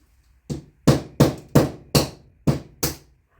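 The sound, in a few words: hammer smashing electric iron parts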